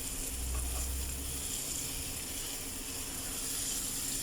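Beef loaf mixture with black pepper sizzling loudly in a hot pan, a dense continuous crackle with scraping and clicking of a spoon stirring, close and without talk.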